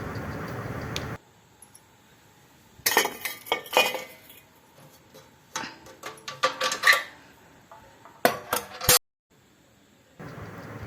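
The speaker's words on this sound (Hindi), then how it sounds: "और अब मैं जा रही हूँ पूजा के बर्तन धोने।" Metal puja utensils and dishes being washed clank and clink in uneven bursts of scraping and knocking, with short quiet gaps between, close by and with no talking.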